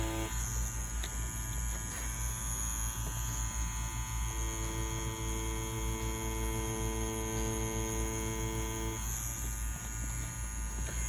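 A Mummy wireless tattoo machine runs with a steady, continuous electric hum and buzz, loud and close, with no talking.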